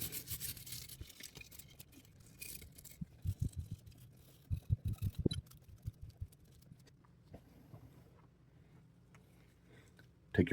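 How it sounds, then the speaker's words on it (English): A brush scrubbing the trigger assembly of a Canik TP9SFX pistol, close bristly scratching in irregular short strokes, louder bursts in the middle and quieter rubbing toward the end. "Now take a brush and begin scrubbing."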